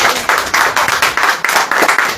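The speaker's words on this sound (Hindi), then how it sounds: "ताली वाली बजेगी नहीं?" Audience at an evening church meeting claps in a steady rhythmic beat, loud and even, with no talk over it.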